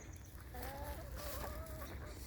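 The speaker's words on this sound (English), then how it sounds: "We're being chased down by chickens." Chickens in a backyard food forest cluck faintly in a short run of calls over steady outdoor background noise, no talking.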